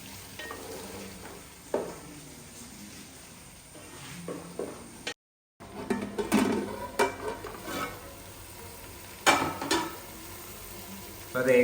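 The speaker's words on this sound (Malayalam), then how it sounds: "ഒരു 5 to 10 മിനിറ്റ്സ് ഇതുപോലെ നമ്മൾ ഇത് വഴറ്റിയെടുക്കണം" Mango and carrot sautéing for pickle in a pan, with a steady soft sizzle and intermittent scraping stirs, close and moderately quiet, broken by a brief silent gap.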